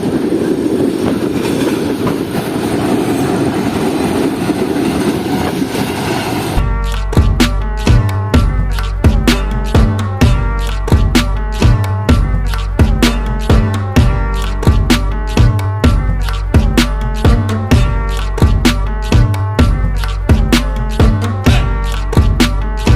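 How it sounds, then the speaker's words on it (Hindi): A passenger express train runs on the rails near Karachi: an initial rushing roar gives way to loud, regular clickety-clack as the wheels strike rail joints in a steady repeating rhythm. "दोबारा एक बार अच्छे फ्लो में हमारी ट्रेन जम्पी रेलवे स्टेशन में पहुंचने वाली है कुछ ही देर में"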